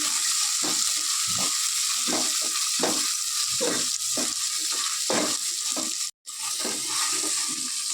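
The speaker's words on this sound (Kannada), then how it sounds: "ಚೆನ್ನಾಗಿ ಫ್ರೈ ಮಾಡ್ಕೊಳ್ಬೇಕು. ಸಿಮ್ಮಲ್ಲಿ ಮಾಡ್ಕೊಳ್ಬೇಕು." Spices and field peas fry in hot oil for Kara Pongal, a close, crackling sizzle broken by rhythmic stirring scrapes, with one brief gap near the end.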